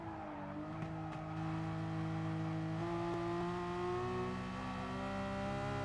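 Race car in Gran Turismo Sport on the Nurburgring Nordschleife easing off the throttle, a steady loud engine drone with shifting harmonic pitch and light tire noise, heard alone with no talk.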